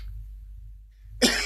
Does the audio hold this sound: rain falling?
no